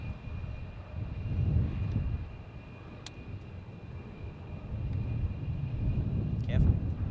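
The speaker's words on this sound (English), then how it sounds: "Jetstar Flight 764 bound for Adelaide," A Jetstar airliner rolls onto runway 25 with a low, distant engine rumble that swells and fades unevenly, and a brief click sounds partway through.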